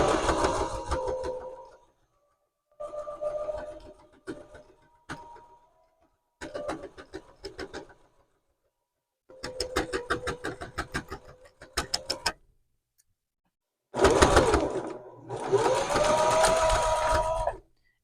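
A sewing machine stitches a rag quilted journal cover in repeated runs of rapid mechanical chatter, each burst lasting a few seconds and separated by short pauses, loud and close.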